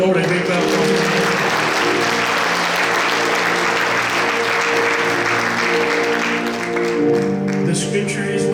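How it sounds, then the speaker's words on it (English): Steady, dense applause from a church congregation fills the room for several seconds, with music or sustained tones underneath and some voices mixed in, fading slightly near the end. "give the Lord a big round of applause"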